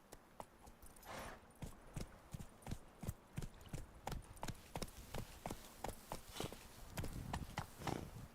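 Roach, the horse in The Witcher 3, trotting with clear regular hoofbeats, a steady clip-clop rhythm of sharp individual strikes that quickens slightly toward the end, close and distinct.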